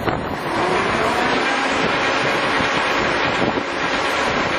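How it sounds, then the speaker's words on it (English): A Monarch Model CM 24.5 x 48 inch lathe runs with a 21-inch four-jaw chuck spinning at 400 RPM, giving a steady loud broadband whir and rumble that holds constant throughout with no voices. "This is a 21-inch four-jaw chuck that's spinning at 400 RPMs."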